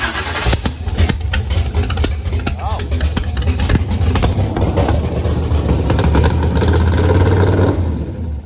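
A Blazer's Texas Speed supercharged blower engine runs loudly and close, with a rough, pulsing mechanical rumble and clatter that builds steadily while people talk over it.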